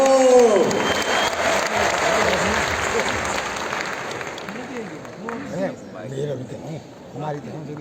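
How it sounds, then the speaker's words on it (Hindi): Loud audience applause at a gathering, a broad, sustained wash of clapping that thins out toward the end as voices begin speaking over it. "तो एक बार जोरदार तालियां हो जाए।"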